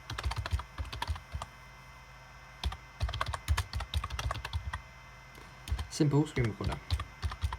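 A computer keyboard is tapped to enter a terminal command on a Raspberry Pi, giving quick irregular bursts of close, crisp clicks that pause and resume while someone speaks in between.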